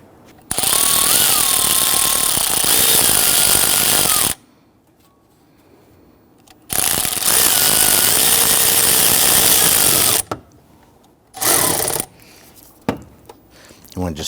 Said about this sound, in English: I'm going to use my 10mm socket, and we're going to secure our air intake tube clamp down below.